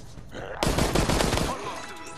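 A burst of gunshots in a video game, loud rapid cracks packed into about a second and then dying away.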